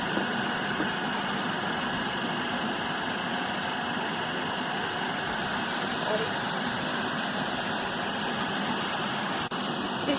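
A steady hum and whir from an electric motor running at no load on a Hopkinson test bench, constant and unchanging throughout, with broadband noise and no speech heard.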